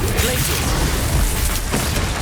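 A Confringo fire-blast spell erupts in Hogwarts Legacy combat: a loud, dense, roaring burst of noise with a heavy low-end rumble that sustains for the whole moment, with no clean gaps.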